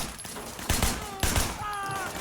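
Gunfire in the video game Sleeping Dogs, two heavy, loud shot bursts about half a second apart over a constant din of combat, with someone talking in between.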